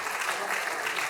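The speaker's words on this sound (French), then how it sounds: "Et on applaudit Joël Bruno qui arrive" Audience at an outdoor apple festival gathering applauding a newly elected deputy as he arrives, a brief burst of steady, dense crowd clapping that fills the whole moment.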